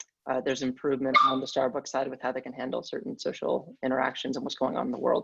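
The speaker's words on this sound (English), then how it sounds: "apologies for the dog in the background" A household dog barks and whimpers faintly in the background, its short yips mostly buried beneath someone speaking steadily and close throughout.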